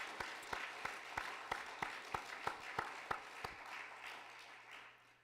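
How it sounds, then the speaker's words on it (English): Sparse, faint clapping for finalists at a pitch presentation event, a dozen or so distinct claps in an uneven rhythm that thin out and fade away toward the end. "Let's give them a round of applause."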